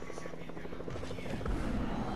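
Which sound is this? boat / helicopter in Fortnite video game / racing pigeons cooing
helicopter in Fortnite video game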